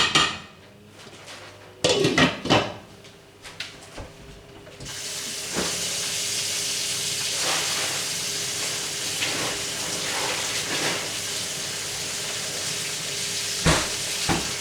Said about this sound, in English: While we have the veggies cooking.